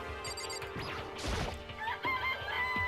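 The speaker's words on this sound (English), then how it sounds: "It's chicken. A real one." A rooster crows in the video game Danganronpa, heard close and clear amid clucking fowl sounds and a sharp crash or thwack, all within a few seconds.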